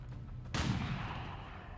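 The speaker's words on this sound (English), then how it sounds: "Pistol shot, that one." A single pistol shot from XCOM 2 cracks out sharply, near and loud, then rings off with a decaying tail over a steady low game ambience.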